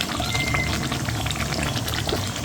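Chicken curry gravy with sesame bubbles and simmers steadily in a pot, a continuous close, moderately loud hiss of boiling liquid with soft popping bursts and no talking.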